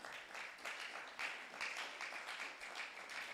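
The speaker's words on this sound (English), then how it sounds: "It's a good place to appreciate them with a clap." Audience applause at a school graduation ceremony in Ghana: a dense, steady patter of many hands clapping together, moderately loud and sustained throughout.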